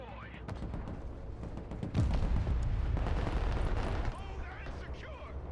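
Anti-tank guided missiles launching and striking in a war video game trailer, a dense barrage of booming blasts and gunfire that surges loud partway through, with voices talking over the battle.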